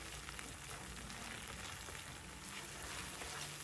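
Banana halwa made with jaggery and cornflour being stirred in a pan over a low flame, giving a soft, continuous sizzle and scraping hiss with no talking.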